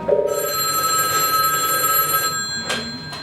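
A telephone rings at a listener-sponsored radio station, one long loud electric bell ring lasting about two seconds, followed by a brief fainter ring, close and with no talking.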